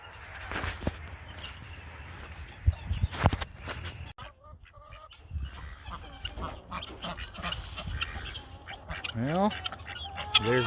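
A mixed backyard flock of ducks and guinea fowl calls in bursts of honks, quacks and harsh chattering cries, some near and some farther off, with a person talking faintly at times.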